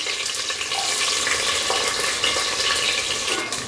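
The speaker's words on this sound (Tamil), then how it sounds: "இந்த வெங்காயம் கொஞ்சம் நல்லா வதங்கட்டும்" Two large sliced onions frying in a pan with clove, cardamom and cinnamon for mutton biryani: a steady, close, continuous sizzle and crackle with no pauses.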